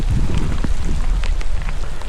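Rain falling at Bernal Glacier in Chile, a steady loud hiss of drops with low rumbling wind noise underneath and a few sharper patters, no voices.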